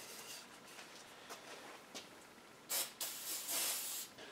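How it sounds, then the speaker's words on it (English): Water spraying onto a chainsaw's plastic housing during cleaning, a broad hissing spray that comes in short bursts, with louder sustained blasts near the end. "I'm going to spray this guy off."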